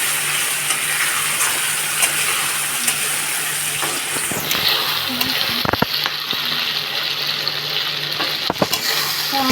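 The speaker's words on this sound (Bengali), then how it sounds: "তো আমরা বেগুনটাকে আবারও নেড়ে চেড়ে দিচ্ছি।" Eggplant curry frying in a pan and being stirred, with a steady sizzle throughout and scraping, clicking stir strokes growing busier in the second half; fairly close and no voices.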